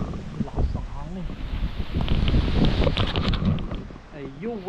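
Strong typhoon wind gusting and rustling steadily around a market area, with a voice speaking briefly over the roar.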